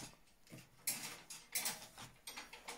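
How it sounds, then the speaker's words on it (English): A sewing machine stitches around the edge of a paper scrapbook booklet, giving a faint, uneven series of soft mechanical clicks and ticks in short bursts. "I'm just going to sew around that edge."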